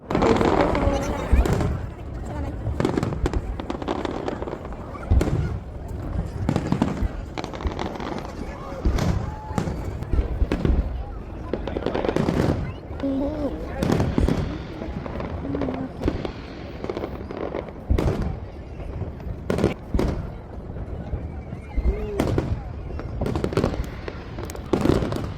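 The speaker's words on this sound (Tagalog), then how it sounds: "while we are waiting for the fireworks" Eid fireworks bursting outdoors in a long run of sharp bangs and crackles, some close and loud, others farther off, with people talking and calling out in between.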